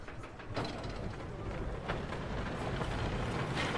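A roller coaster train running in the Planet Coaster video game gives a soft, continuous rumble with faint rhythmic clacking, low in level and steady throughout.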